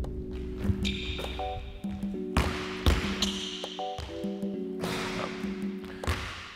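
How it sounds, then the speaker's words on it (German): Basketballs bounce in a gym during a jump shot drill from a reverse pivot, giving sharp irregular thumps that echo, with squeaky tonal ringing and sneaker sounds and no talking. "Erste Situation ist, Malik, Reverse Pivot, 2 Dribblings zur Mitte, Sprungwurf"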